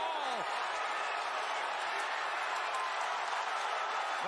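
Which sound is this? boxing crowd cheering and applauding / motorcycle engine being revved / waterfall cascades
boxing crowd cheering and applauding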